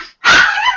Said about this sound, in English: And whose doggy is that?